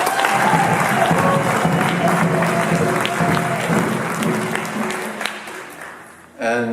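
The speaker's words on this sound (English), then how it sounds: "Let's give him a hand clap" An audience at a Dr. Martin Luther King Jr. 89th birthday commemoration event gives a dense round of hand clapping that holds steady, thins out near the end, and gives way to a voice.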